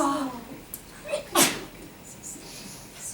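A single sharp sneeze bursts out mid-way, short and close, amid quiet room tone with a few soft vocal sounds around it.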